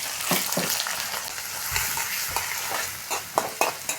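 Chopped onion sizzles in hot mustard oil in a kadai while a spoon stirs and scrapes through it, a steady close frying hiss broken by scraping strokes and a few clinks.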